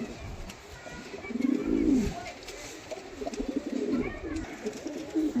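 Pigeons held up for sale give low, rolling coos, with two louder swells of cooing standing out against a faint background of room noise.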